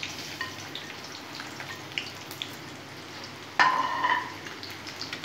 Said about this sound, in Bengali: সুন্দর করে পেঁয়াজগুলো ভেজে নেব।